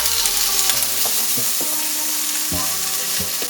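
Asparagus fries in butter in a pan, a continuous close sizzle with occasional stirring knocks and clatters and no talking.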